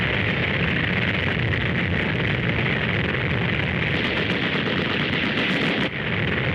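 Archival war games footage of artillery and gunfire, as an armored division advances and crosses a stream: a dense, continuous roar of rapid bursts and blasts, loud and sustained throughout.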